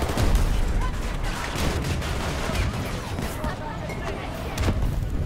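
P90 submachine gun fire in Battlefield 2042, dense bursts of shots mixed with distant explosions and battlefield chaos, loud and continuous with sharp transients throughout.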